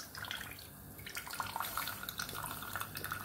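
Liquid from a can of mackerel is poured over cooked rice, giving a soft, close trickling and dripping splash that continues steadily for a few seconds.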